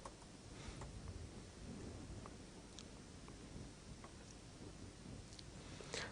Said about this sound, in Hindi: संगारेड्डी जिले के जहीराबाद और झिरा संगम मंडलों में शाम के वक्त मूसलाधार बारिश हुई है।